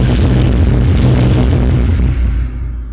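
An explosion in an Unreal Engine third-person shooter booms loud and close, a dense low rumble that fades out after about two seconds.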